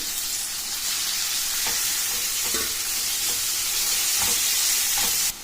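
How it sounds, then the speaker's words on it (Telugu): Fenugreek leaves frying with onions in a pan give a steady bright sizzling hiss throughout, broken by a few soft scraping strokes as a spatula stirs them, with no voices. "ఇప్పుడు మెంతెం కూరలోని పచ్చి వాసన పోయే వరకు మనం కలుపుకొని పెట్టుకోవాలి."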